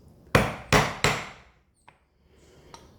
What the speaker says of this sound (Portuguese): E aí quando eu entrar aqui, o formão vai estar mais livre para descer